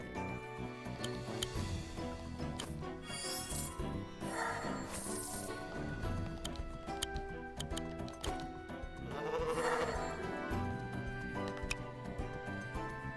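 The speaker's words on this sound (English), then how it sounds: "Why does it make a goat noise when I'm inspired?" Goat bleats from the Wargroove 2 strategy game, several quavering calls over busy game music and effects at low overall level.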